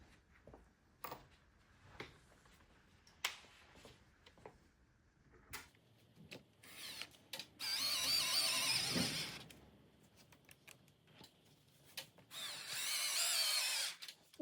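A power drill whirs in two sustained bursts, a shorter one and then two longer runs, driving screws into the back of a Herman Miller Aeron chair, separated by clicks and handling knocks nearby.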